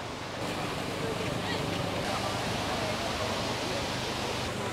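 A steady, loud rush of flowing water from the river below Ayn Athoom waterfall in Salalah, a broad continuous roar mixed with wind buffeting the microphone.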